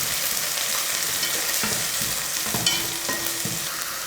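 Beans and carrots sauté in a hot pan, giving a steady close sizzle with scraping stir strokes and small clinks throughout, and no talk.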